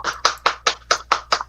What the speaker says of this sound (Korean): 큰 박수로 모시기 바랍니다.